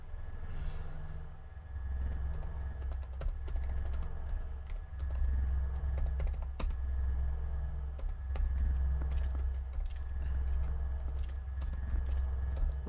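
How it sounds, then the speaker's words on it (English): Computer keyboard typed with one hand during a session of The Legend of Zelda: Twilight Princess, a steady stream of light clicks and taps heard close over a constant low hum. "typing with one hand like this is not the easiest"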